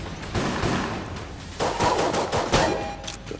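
Enemy gunfire in Enter the Gungeon, rapid bursts of cartoonish shots and impacts in quick succession, loud and busy, with no talking.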